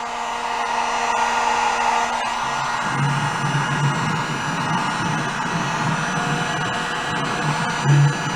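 A hair dryer blows hard on a rusty Honda Trail 90 part from a bike left sitting 37 years, a loud steady whooshing roar that holds throughout with a slight shift in pitch partway.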